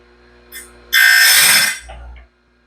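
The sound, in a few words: grinder sharpening a sawmill band blade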